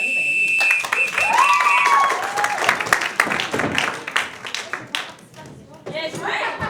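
Applause at a youth improv match, a crowd clapping with whoops and loud voices over it, the clapping turning sparse and scattered toward the end.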